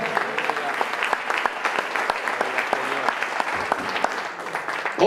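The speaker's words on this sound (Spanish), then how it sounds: "si el aplauso es para Cristo, dáselo fuerte." A church congregation claps loudly and steadily during a Christian revival service, the dense applause continuing unbroken for several seconds, close and full.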